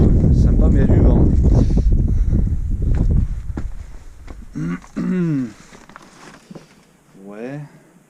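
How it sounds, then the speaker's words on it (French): Wind gusting across a mountain trail on a hike to a summit, heavy rumbling buffeting on the microphone for the first few seconds, then lighter gusts while people talk. "Sympa mais il y a du vent."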